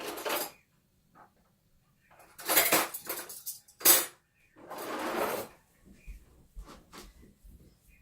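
A metal spoon clatters and scrapes against a casserole dish of enchilada filling with tortillas, salsa and cheese, in a few irregular bursts broken by quiet gaps, with faint low thumps near the end.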